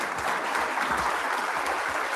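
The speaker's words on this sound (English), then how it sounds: "let's give them a round of applause real quick" An audience in a room at a lunchtime history talk gives a brief round of applause, steady dense clapping at an even level through the short span.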